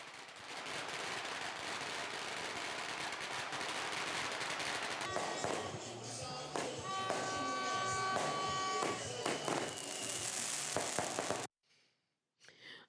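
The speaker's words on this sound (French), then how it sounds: "pétard et feu d'artifice." Firecrackers and fireworks go off at an outdoor election victory celebration, a dense, continuous crackle of rapid bangs over crowd noise, with sharper pops standing out before it cuts off abruptly.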